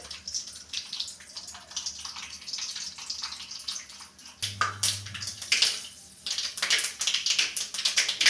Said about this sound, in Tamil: கடுகு பொறிச்சு சேர்த்துக்கலாம்